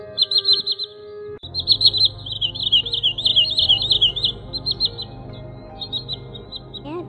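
Recorded calls of a common greenshank used as a bird-trapping lure: rapid repeated bright whistled notes in bursts, loud and close over a low hum of background noise.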